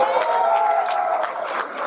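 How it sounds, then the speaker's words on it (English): Applause from the crowd at a union annual dinner, a dense, even patter of clapping that holds steady and thins slightly toward the end of the brief burst. "How come CSEA is applauding if CWA didn't?"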